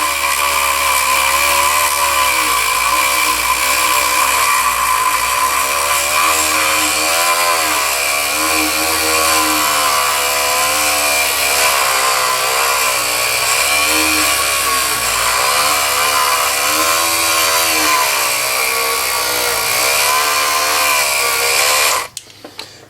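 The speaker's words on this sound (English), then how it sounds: "the Dremel setting that I have mine on is the lowest setting" Dremel rotary tool on its lowest speed setting, used for a loading port modification on a Stoeger M3000 shotgun, whines steadily and loudly with a wavering pitch for about twenty-two seconds, then cuts off abruptly near the end.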